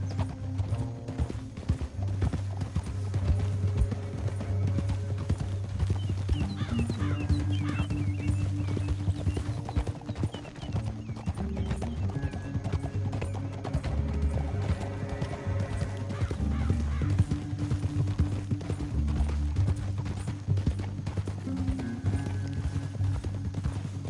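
Horses gallop in a Western video game, a quick rhythmic clip-clop of hooves running steadily for a long stretch under game music, with a brief whinny and no voices.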